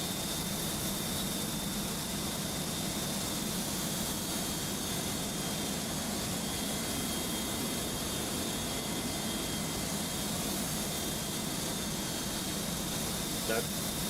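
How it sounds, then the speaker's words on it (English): Airbus A300-600 jet engine spooling up in a flight simulator: a steady, dense broadband roar with a constant high whine, loud and unbroken throughout, with no talk over it. "Let's start up engine number and enjoy the sounds."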